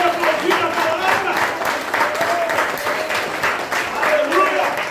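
A church congregation claps along in a steady patter that swells and eases, with a preacher's voice carrying over the applause throughout.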